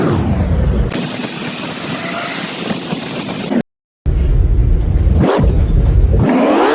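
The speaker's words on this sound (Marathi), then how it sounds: "स्टेअरिंगवरती तर हात ठेवला आणि जी गाडी पळवली ना" A Porter delivery mini truck speeds along an open road, heard as a loud, constant rush of wind and road rumble, with a short dropout partway through and a brief whoosh near the end.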